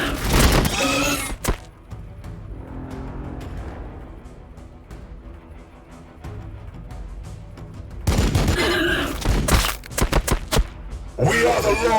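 Gunfire in Warhammer 40,000: Battlesector during the Blood Angels campaign: a sharp burst of shots at the start, a quieter battlefield rumble, then dense volleys and thumps from about the eighth second onward, with voices over the action.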